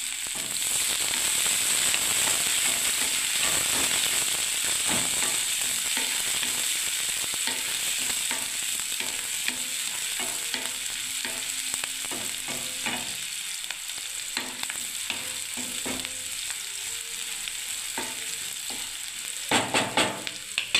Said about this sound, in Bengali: আমি পেঁয়াজগুলো আগে ভেজে দিচ্ছি বন্ধুরা দেখুন।